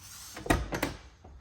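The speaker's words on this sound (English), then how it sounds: "Listen to how the door closes." A single solid thunk of a Dodge car's door shutting nearby, followed by a few softer clicks and settling sounds.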